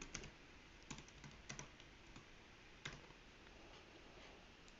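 Java code for a Spring Boot application typed on a computer keyboard: quiet, scattered keystrokes in short irregular bursts, close by, with no talking.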